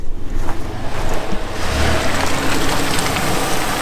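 A Dodge Caravan with a 3.8 liter V6 spins its front tire in a burnout, giving a loud, continuous, broadband roar with a slowly building rumble and no talking.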